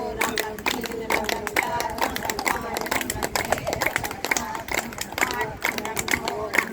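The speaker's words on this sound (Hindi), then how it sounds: "चलिए करिए ताली वादन" A yoga class of people clapping together in Mahagunpuram, a brisk run of sharp hand claps repeating quickly and close, with voices chattering underneath.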